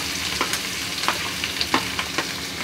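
Small broken potato pieces fry in hot oil with asafoetida and turmeric, a continuous close sizzle punctuated by regular scraping stirs of a spoon.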